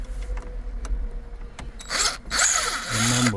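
Torx 20 screws being worked out of the dashboard trim of a 2014-2016 Range Rover Sport: close, scratchy rubbing and grinding tool noises, faint light ticks at first, then louder bursts of scraping through the second half, with no talking.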